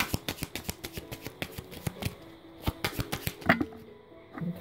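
Lenormand cards are shuffled in quick, crisp bursts of riffling and tapping, close and clear with no talk.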